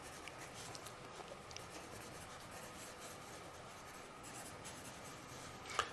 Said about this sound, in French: je vais dessiner des feuillages